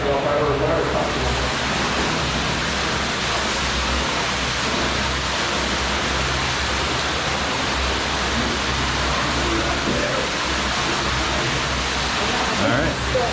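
A waterfall in McFail's Cave roars as dense, steady broadband rushing noise, loud and unbroken throughout, with a voice faintly under it.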